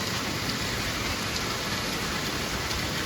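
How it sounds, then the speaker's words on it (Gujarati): Heavy monsoon rain pours down steadily in Bhavnagar, a dense, even hiss of falling water with no letup and no voices. "ધમ વરસાદ પડી રહ્યો છે ભાવનગરમાં"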